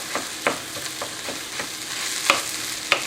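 Ground beef browning in a hot pan while it is broken up and stirred: a steady close sizzle with soft, irregular scraping strokes of the utensil on top, and no voices.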